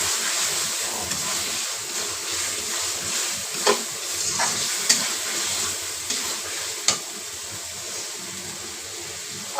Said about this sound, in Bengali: মাছটা নিয়ে আমি একটু নেড়ে চেড়ে অল্প একটু পানি দিয়ে দেবো।